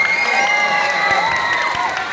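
A fiesta comedy variety show audience in Cabanatuan City claps and cheers, a dense crowd noise of applause with scattered shouts and voices, loud and close throughout.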